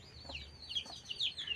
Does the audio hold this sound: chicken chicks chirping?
yes